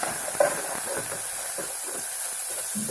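Crushed garlic cloves sizzle in hot oil with curry leaves, a continuous even hiss with faint crackles close up, no voices.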